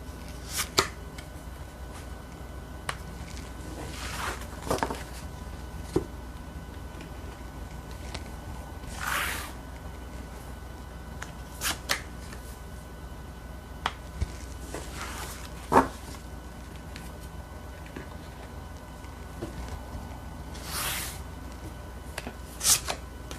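Tarot cards are shuffled and drawn, a quiet series of soft riffling bursts, flicks and taps spaced irregularly over a faint steady background.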